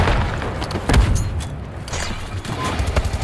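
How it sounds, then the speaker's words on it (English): A concussion grenade goes off in Call of Duty Black Ops 6 on the Babylon map during a Domination match: a loud, low boom near the one-second mark, set amid steady gunfire and game clatter, with a voice briefly heard. "Concussion grenade out."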